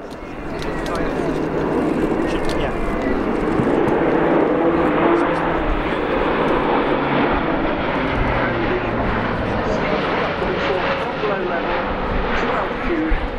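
Airbus A400M military transport aircraft performing a flying display at RIAT 2018, its loud, steady turboprop roar filling the whole stretch with broadband drone and continuous propeller noise, carrying on without a break, with a commentator speaking over it.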